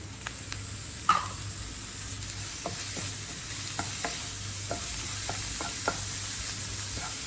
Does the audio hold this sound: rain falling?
no